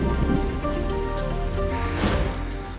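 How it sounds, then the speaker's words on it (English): Steady rain pours down at the Sturgis motorcycle rally outside a saloon, a dense continuous hiss close by with a brief heavier gust partway through, no voices. "It happens every year at Sturgis, it rains."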